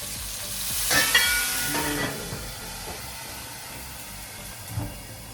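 Hot oil sizzles and spatters in a pan during frying in a home kitchen. A steady hiss is broken by a few sharper pops.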